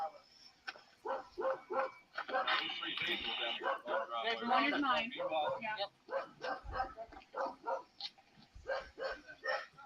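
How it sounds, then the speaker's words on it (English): A dog barks in rapid, excited bursts, yipping and whimpering, fairly close, while people talk over and between the barks. "I've never heard the dog bark like that."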